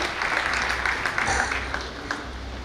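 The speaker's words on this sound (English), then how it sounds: "Big round of applause for the chief guest and the guest of honor." A conference audience at an opening ceremony applauds the chief guest and guest of honor with a steady, dense wash of clapping at moderate loudness.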